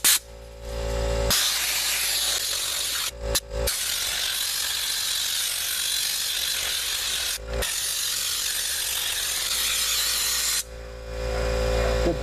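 Big air compressor hose blowing air in a workshop, a loud close continuous hiss lasting several seconds with a couple of brief interruptions, framed by compressor motor hum at the start and end, no talking.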